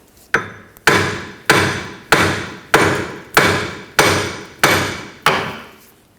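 Nine heavy metallic hammer blows knocking the rear wheel bearing and hub off a 2013-2019 Ford Escape, striking at a steady rhythm about every half second, each ringing briefly before the next, loud and close.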